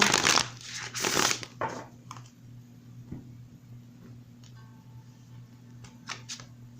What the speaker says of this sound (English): So let's go ahead and give it one more shuffle.